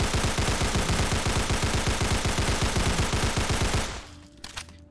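A fully upgraded Sten submachine gun with extended mags fires a fast, unbroken automatic burst at a Deathclaw in Fallout 4, sharp, loud and close for about four seconds, then stops abruptly, leaving faint echoes and a few clicks.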